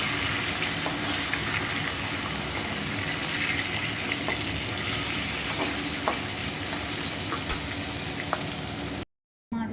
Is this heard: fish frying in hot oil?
yes